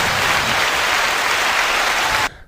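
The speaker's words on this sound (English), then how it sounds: "The crowd's going wild." A canned applause effect of a cheering crowd roars as a loud, even wash of clapping, then cuts off abruptly near the end.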